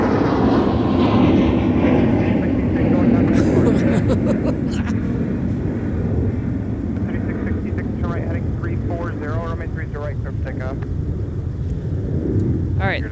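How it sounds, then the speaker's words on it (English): A Delta airliner, flight 1817 to Newark, takes off from runway 30 left at Minneapolis–St. Paul airport. A broad, rumbling jet roar holds steady and slowly fades, with radio voices talking over it. "30 left departure was Delta 1817 to Newark"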